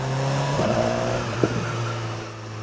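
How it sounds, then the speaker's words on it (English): A BMW S1000XR motorcycle engine runs with a steady, loud droning hum, briefly rising in a couple of short blips before settling back to an even tone. "how it pops on the downshifts and the rolling off"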